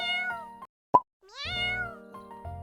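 A cat gives a couple of clear, close meows with rising and falling pitch, broken by a short sharp plop, with no voices.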